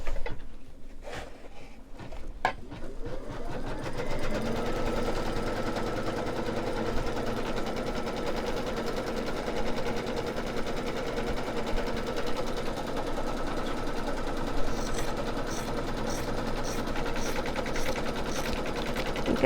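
An embroidery machine stitches fabric for a snowman mug rug with a steady, rapid mechanical chatter that runs on continuously and close by, after a few sharp taps at the start.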